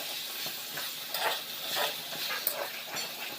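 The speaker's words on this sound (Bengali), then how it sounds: "ভালো করে এবার মিশিয়ে নেব" Meat is stirred with meat masala in a pan for chicken curry, a continuous close sizzle with repeated scraping strokes of the spoon, steady and moderately loud.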